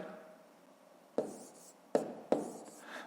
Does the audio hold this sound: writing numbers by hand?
yes